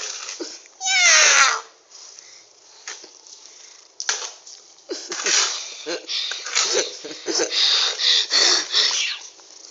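A cat gives a drawn-out, rising meow near the start, followed by scattered rustling and people talking in the background.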